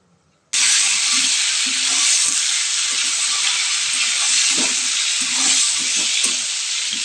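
Pointed gourd (potol) sizzles loudly in a hot pan, a steady bright frying hiss that starts abruptly and holds throughout, with soft scraping stirs and clacks of a spatula underneath.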